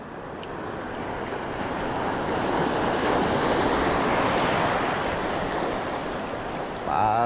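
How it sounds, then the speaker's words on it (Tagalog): Ocean waves wash continuously onto the shore at Puerto Princesa, Palawan, Philippines, a broad roaring surge that swells and eases, with wind buffeting the microphone. "Walang alon ngayon, maalon na naman."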